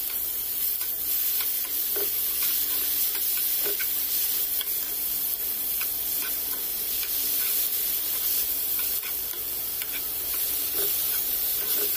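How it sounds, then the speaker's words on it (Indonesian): Ground spice paste for a spicy-sour shrimp and clam dish sizzles steadily in a hot pan, with a soft crackling hiss and occasional scraping stirs, no voices. "kita goreng sampai benar-benar wangi"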